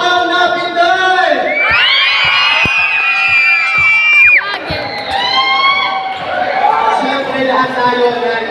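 Loud crowd shouting, whooping and cheering at an SK League youth awarding ceremony, a sustained roar of many voices with high shrieks rising midway, then continuing excited yelling throughout.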